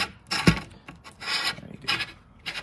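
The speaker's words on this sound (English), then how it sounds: "you just gotta give some force into it and it will unscrew like a normal nut" The cap of an LED pixel tube being forced and unscrewed, giving short, gritty rasping twists in separate bursts, close up and alone.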